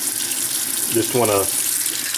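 Hot water runs briefly from a tap to rinse file shavings out of a micro brushless motor, a short splashing gush under a few spoken words against a steady background hiss.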